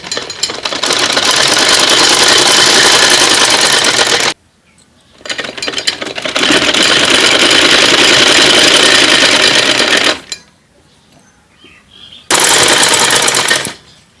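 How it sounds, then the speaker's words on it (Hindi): A sewing machine stitches cloth for a child's village-style shorts in three loud, rapid mechanical bursts, about four, five and two seconds long, with short quiet pauses between runs. "सिलाई इस तरह देख के सीधी सिलाई लानी है।"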